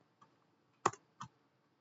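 A few keystrokes on a computer keyboard in a Linux terminal: three sharp, faint clicks spread over under two seconds, with the middle one loudest.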